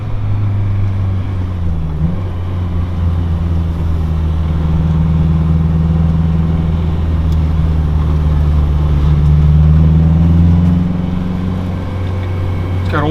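A turbocharged K20-engined Honda Civic drones low and steady, its pitch climbing gradually as it accelerates under full throttle into boost, with constant road and wind noise throughout.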